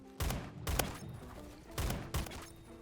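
Saiga 12 shotgun firing in the Roblox game Phantom Forces, four loud punchy blasts in two quick pairs, each with a short decay.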